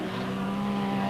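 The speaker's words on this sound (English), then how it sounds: "There's Jabir's Volkswagen Beetle with that Volvo engine." A Volkswagen Beetle rally car fitted with a Volvo engine races past on a special stage, a brief loud engine roar with a sustained droning tone, close and continuous.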